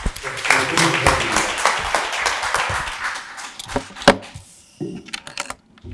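Audience applause welcoming a professor at a Korean National Assembly forum on addiction treatment, a burst of clapping that fades out within a few seconds, followed by brief scattered sounds and a voice speaking.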